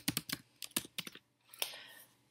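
Keywords being typed on a computer keyboard: quick clusters of crisp key clicks in short bursts with brief pauses, close and fairly quiet, no talking.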